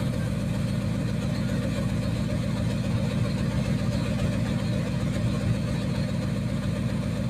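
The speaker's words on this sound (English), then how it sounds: "The ARB air compressor twin." An ARB twin air compressor runs steadily with a constant loud motor drone and fast, even pulsing, with no change in pitch over the whole stretch.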